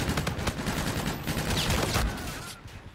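M1 rifle fire in Call of Duty: Infinite Warfare multiplayer, a quick run of sharp, loud shots close together over about two seconds before tailing off, with no talk.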